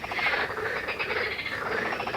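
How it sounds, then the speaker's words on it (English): Frogs croak at night beside a carp fishing lake, a dense chorus of rhythmic, pulsing calls forming a steady background with no talking. "You probably hear the frogs in the background"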